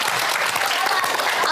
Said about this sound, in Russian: Это аплодисменты мне или собаке?